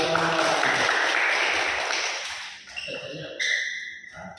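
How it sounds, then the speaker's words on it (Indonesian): A classroom of students claps in a loud burst of dense applause that fades out after about two seconds, and then scattered voices and light chatter follow. "Beri tepuk tangan."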